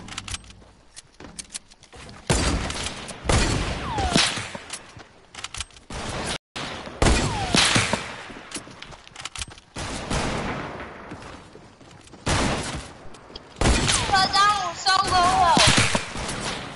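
Rapid bursts of video game gunfire crackle through a tense multiplayer match, with several volleys coming in waves amid near-constant excited talk from players.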